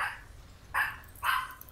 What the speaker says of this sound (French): Oh le chien pas content.